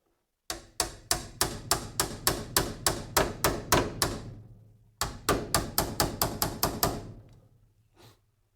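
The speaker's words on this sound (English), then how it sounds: "So I can use a hammer." Sharp metallic hammer blows on the rusty, damaged body metal of a 1972 Chevelle, struck with an ordinary hammer in a fast, steady run of about a dozen strikes, a brief pause, then another quick series, ringing close and loud.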